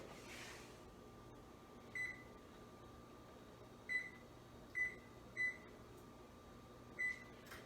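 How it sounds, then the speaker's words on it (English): A microwave oven switches on: several short electronic beeps spaced irregularly over a faint steady hum, with no talking. "All right, so turn on the oven."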